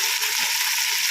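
Small fenugreek leaves fry with golden onions in a pan for mutton paya shorva, giving a steady, close, even sizzle and hiss that never lets up, with no voices over it.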